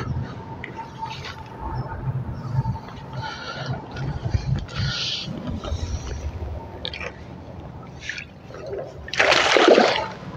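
A brief splash near the end as a released catfish enters the water, following a low, murky stretch of outdoor background noise.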